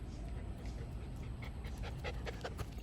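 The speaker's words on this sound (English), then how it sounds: "I think my dog is scratching the door." A pet dog pants steadily with a few soft whimpers close by at a home door, under low background noise throughout.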